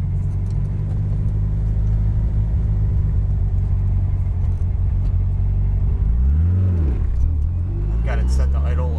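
Mitsubishi Evo 8 or 9 with tuned speed density setup on a stock ECU pulling off from a stop up a steep hill, a steady loud engine rumble that swells as it accelerates, with voices talking over it.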